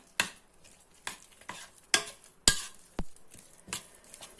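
Batter for potato pancakes (deruny) being stirred, with a series of sharp, close scraping and clacking strokes against the bowl at a quick uneven rhythm and a faint frying sizzle between them.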